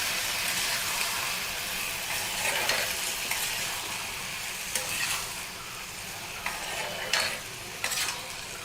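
Food frying in a pan, with a steady close sizzle and crackle that runs throughout and occasional sharper pops or stirring scrapes.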